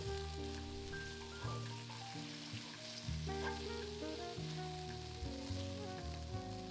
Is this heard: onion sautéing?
yes